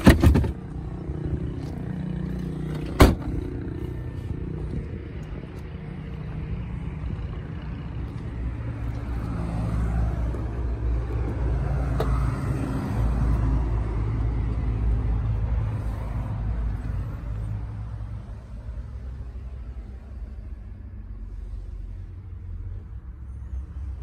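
A 2000 Honda Civic VTi engine runs at a steady idle, a close, continuous low rumble with one sharp click near the start and a slight swell midway.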